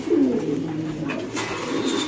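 Pigeons coo in low, throaty rolling calls at a pigeon market, close and fairly loud, with a brief rustle and no talking.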